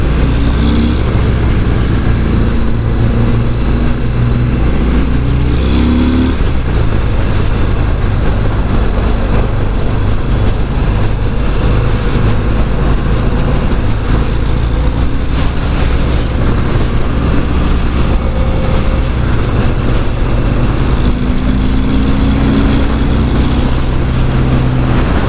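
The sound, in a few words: 2018 Harley-Davidson Fat Bob 114 motorcycle engine on test ride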